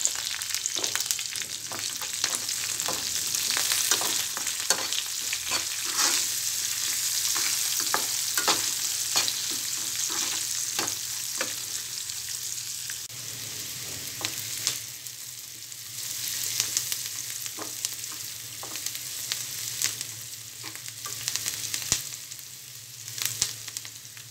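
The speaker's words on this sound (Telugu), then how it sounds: "తాలింపులో ఉల్లిపాయ ముక్కలు వేసుకోవాలి ఇందులో కొద్దిగా పసుపు వేసుకోవాలి" Onion pieces and turmeric frying in tempering oil, cooked for a cluster beans peanut-powder dish: a steady, loud sizzle runs throughout with frequent sharp clicks and scrapes of stirring, with no talk.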